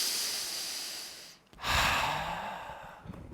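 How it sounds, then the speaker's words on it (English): A group draws a long, deep breath together, a hissing rush that fades briefly and then swells again into a loud, airy exhale nearby. "So everybody take a deep breath with me."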